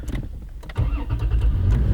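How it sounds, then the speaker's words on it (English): A car engine cranks with a few quick clicks and whirs, then catches and settles into a loud, steady low rumble close by. "when you start the car"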